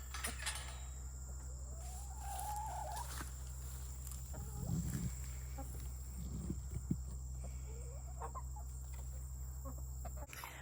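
Faint clucking backyard chickens in Ohio amid a steady background hum, a few soft calls scattered across the stretch, no voices.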